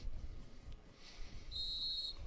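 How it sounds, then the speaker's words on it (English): A sharp, high whistle blast starts an elite men's mountain bike race, sounding clear for about a second over faint crowd and ambient noise. "Race will start with whistle."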